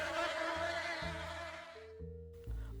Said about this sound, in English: Buzz, buzz. The bees did not budge.